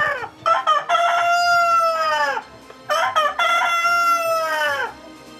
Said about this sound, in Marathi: हे कोंबड सकाळी सकाळी उठतंय आणि काका काका ओरडत सुटतंय.